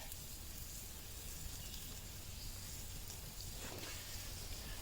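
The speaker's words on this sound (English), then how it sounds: "That's a goodly amount of sausage. We're going to let that sizzle." Sausage sizzles in a pan with a faint, steady hiss and soft crackle that continues evenly, with no one talking.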